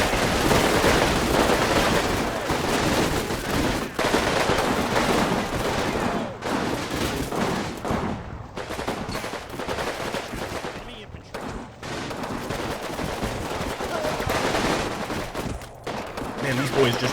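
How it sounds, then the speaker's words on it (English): Rifle grenades and gunfire in the WWII tactics game Combat Mission: Final Blitzkrieg, a dense continuous barrage of rapid shots and heavier bursts filling the whole stretch, loud and close, with a voice talking faintly beneath. "Our guys are dead set on using rifle grenades."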